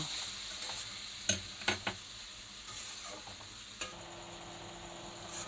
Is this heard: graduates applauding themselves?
no